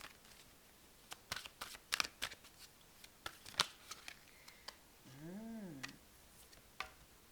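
Tarot cards are shuffled quietly nearby, a series of crisp riffling snaps and taps in uneven bursts, followed by a brief low humming tone, with no talk.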